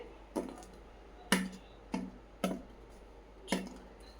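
Crisp fried paneer for paneer 65 stirred in a pan gives five sharp, separate clacks and scrapes at uneven intervals against a quiet background.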